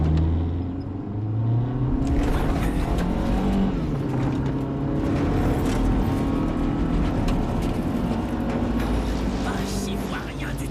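Car engine roaring at high speed through a horror film scene, a loud continuous drone with rising and falling pitch throughout, while tense voices speak over it.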